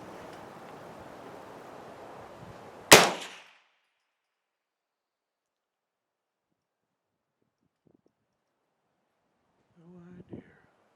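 A CZ V-22 AR-style rifle fires a single sharp, loud shot at an outdoor range over a soft windy hiss, then near silence follows and a brief voice speaks at the end.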